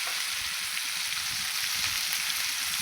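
Drumstick (moringa) pieces sauté in a pan for sambar, giving a steady, close sizzle and crackle that runs unbroken throughout, with no voices.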